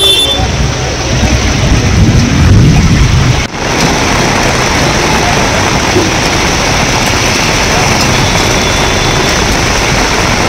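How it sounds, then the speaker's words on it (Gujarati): Torrential rain in Upleta, Rajkot district, makes a loud, unbroken broadband wash with a low engine-like rumble underneath, steady throughout apart from one brief dropout. "રાજકોટ જિલ્લાના ઉપલેટા પંથકમાં ધોધમાર વરસાદ"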